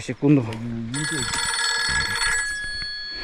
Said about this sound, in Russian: Блин, у меня кто-то звонит.